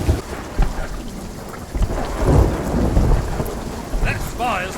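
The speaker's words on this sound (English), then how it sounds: "Calypso's lightning cracked the spire." Thunder rolls with steady rain during a storm in the pirate video game Sea of Thieves, a deep rumbling swell building under continuous rainfall with no speech.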